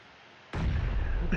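A loud video game explosion erupts suddenly after a quiet moment, a heavy booming blast followed by a dense rumbling roar that stays loud to the end.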